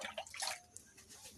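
A little water is poured while making leaf pitha over a wood-fired stove, a short soft splash and trickle up close, fading into quiet dripping.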